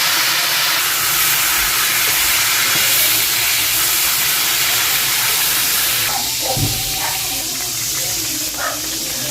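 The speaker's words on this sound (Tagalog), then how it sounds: "Prito ko muna guys yung bawang" Steady loud hiss and sizzle of garlic frying in a pan for chicken adobo, continuous and close throughout, with a few clinks near the end.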